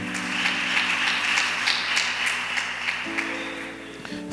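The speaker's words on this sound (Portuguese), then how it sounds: "Dê uma salva de palmas bem forte" A church congregation applauds in a steady, sustained wash of clapping, with a sustained tone underneath that rises in pitch partway through.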